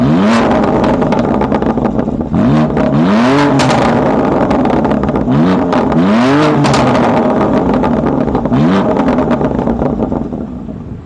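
A BMW M2 Coupe (G87) driven hard, its engine revving up loudly and climbing through gears in several rising sweeps, close and dominant throughout with no voices.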